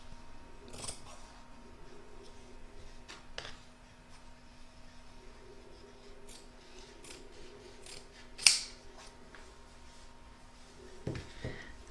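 Scissors snip through excess fabric while an in-the-hoop lined crazy patch bag is being trimmed, giving scattered short cuts with one sharper, louder snip near the end, all fairly quiet and without talk.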